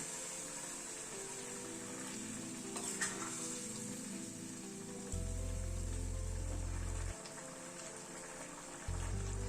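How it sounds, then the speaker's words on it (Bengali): Hot water poured into a pan of potato curry sets off a steady sizzle and bubbling, with loud low rumbling bursts from the pan partway through and again near the end. "আমি সামান্য একটু গরম জল অ্যাড করছি"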